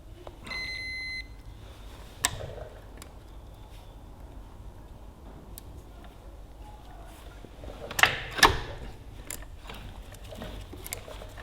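A continuity tester, used while working on a Ferguson TEA20 tractor gearbox, gives one short electronic beep near the start. Scattered clicks and a burst of handling noise follow against a quiet background.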